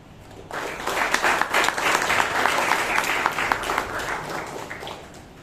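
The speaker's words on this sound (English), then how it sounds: "Let the applause continue" Audience at a Toastmasters meeting breaking into applause after a speech, many hands clapping in a dense, lively burst that swells quickly and holds steady, with a faint voice underneath at times.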